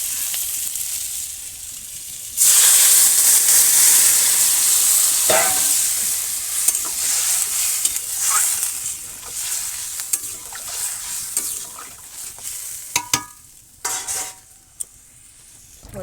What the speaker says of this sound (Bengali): ঝোল এখন ফুটছে